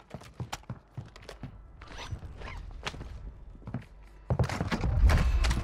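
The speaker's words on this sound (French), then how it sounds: "J'entends marcher." Footsteps in a video game on the map Vondel, a string of sharp, close clicks and thuds in an irregular walking rhythm, then a louder rumbling burst near the end.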